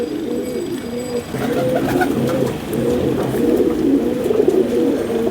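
Pigeons coo steadily in low, throaty rolling phrases, repeating over and over against a faint background hiss.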